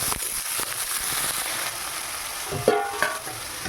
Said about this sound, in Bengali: আলুগুলো দেওয়ার পরে আমি একটু নাড়াচাড়া করে নেব।